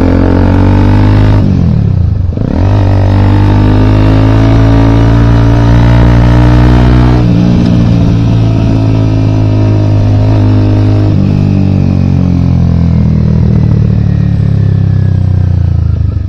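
A motorcycle with poorly working brakes is ridden along, its engine a loud, continuous close-up drone whose pitch dips and rises as the rider slows and speeds up.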